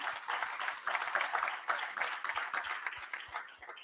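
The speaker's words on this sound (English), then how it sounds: "we deserve a round of applause for ourselves" Scattered applause from a conference audience at a logistics and supply chain event in India, moderately distant and fairly soft, with uneven claps running steadily across the few seconds without speech.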